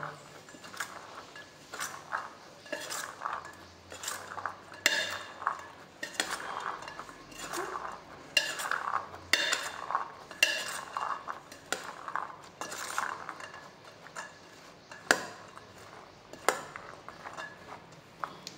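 Boiled chickpeas (chana) being mixed with a spoon in a bowl, giving repeated clinks and scrapes of metal against the dish in an uneven rhythm, close and clear with no talking.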